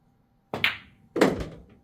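Two solid knocks a little over half a second apart as a firmly struck cue ball hits the object ball toward a corner pocket in 8-ball pool, close and clear in a quiet room.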